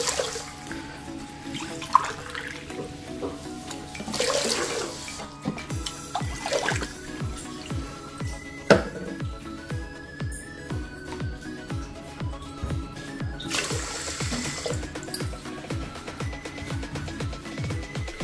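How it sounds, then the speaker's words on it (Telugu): Water poured from a glass into a cooking pot, three glassfuls, as the base for sugar syrup for kala jamun in a home kitchen; a few splashy pouring bursts over steady background music. "ఇదే గ్లాస్ తోటి 3 గ్లాసులు వాటర్ వేసుకుందామండి."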